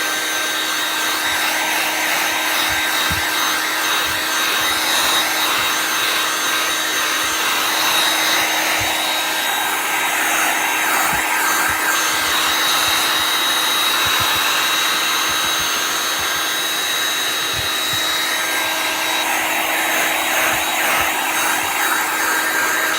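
A hair dryer blows steadily to dry chalk paste on a black arch and base, a constant close airy whir with a faint repeating rub or scrape beneath it.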